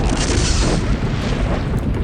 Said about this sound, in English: They make a BFG explosion.